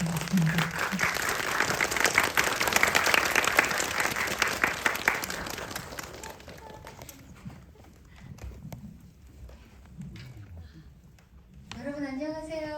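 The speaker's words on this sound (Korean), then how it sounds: "큰 박수로 환영해 주시면 감독님께서 나와주실 것 같습니다." A cinema audience at a short film screening applauds a director coming out for a post-screening talk. Dense, loud clapping fills the first half and then thins into scattered claps and room murmur, and a person starts speaking near the end.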